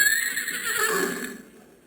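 A horse gives a single drawn-out whinny that rises and then trails off over about two seconds, heard close and alone.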